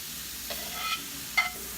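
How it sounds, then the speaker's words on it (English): Chorizo hitting oil in a paella pan, two quick bursts of sizzle and stirring over a soft continuous frying hiss, close by, with no talking. "So we throw the chorizo in."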